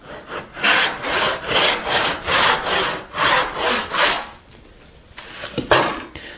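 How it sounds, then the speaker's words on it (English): A rip-filed hand saw crosscuts wood for a tenon in fast, steady back-and-forth strokes, loud and close, then pauses before a few lighter strokes. "I am using a rip-filed saw to make this crosscut"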